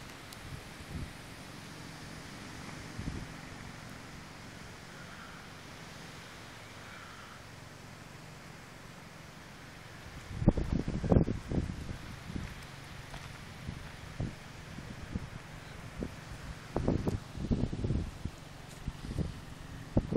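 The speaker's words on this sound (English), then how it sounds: "Comes another gust." Low wind rumbling steadily at the start of a severe thunderstorm in Clinton, Missouri, then strong gusts buffet the microphone in bursts of thumping noise, no voices.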